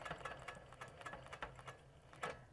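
A sewing machine stitches down a quilt block in quick bursts of mechanical clatter, close by and moderately quiet, with short pauses between runs of stitches and no talking.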